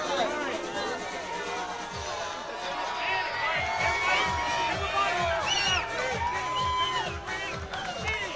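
A crowd at an outdoor boxing championship fight cheers and shouts, a dense roar of many voices with whistles and excited calls throughout.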